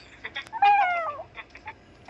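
A cat meowing in the horror video game Granny, one drawn-out wavering meow in the middle, fairly close and clear, framed by short soft ticks and small noises.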